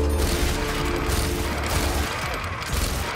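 A video-game minigun fires continuously at zombies, a rapid, dense mechanical rattle of shots that holds at high level throughout and eases slightly near the end.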